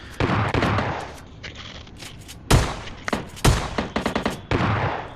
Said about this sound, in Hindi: मुझे इस साइड से भी S12 के की धड़ाधड़ साउंड्स आ रहे थे